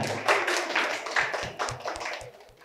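A seated group gives a short, steady round of applause for a presenting team at a workshop on planning a program to advance Aceh's oral traditions, the clapping dense and close for under three seconds.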